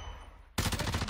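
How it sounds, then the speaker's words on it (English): An assault rifle in a video game opening fire after a quiet moment, a loud close rapid automatic burst with an even rhythm that continues to the end. "The new gun, the new assault rifle."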